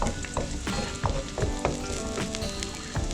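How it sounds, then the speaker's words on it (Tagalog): Garlic and onion sauté in a hot pan, a steady sizzle broken by repeated scraping stir strokes close by, with no talking. "Lagyan na rin po natin yung ating sibuyas. Gisa-gisa lang natin."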